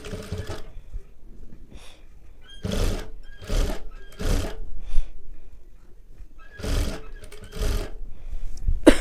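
A sewing machine stitching blouse fabric in short separate bursts of loud mechanical whirring, with quiet gaps between runs.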